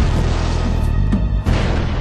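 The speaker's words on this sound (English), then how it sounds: "The investigators carry out a series of computer simulations and experimental explosions" Experimental explosion test for a North Sea oil platform fire investigation: a continuous loud, rumbling roar fills the whole span, with a brief dip and a renewed surge of blast energy about three quarters of the way through.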